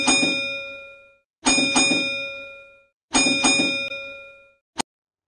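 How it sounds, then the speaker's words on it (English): Bus bell rings in three loud, separate bursts, each a bright metallic ding with two quick strikes that ring out and decay, followed by a short final clink; no voices. "Bus bell."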